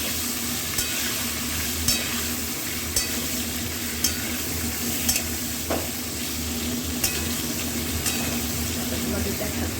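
Eggplant pieces frying in oil in a pan, a loud dense continuous sizzle with regular light spatula taps and scrapes, and faint voice underneath.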